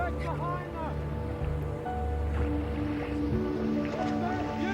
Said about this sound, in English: the rescue boats set up a noise barrier by revving their engines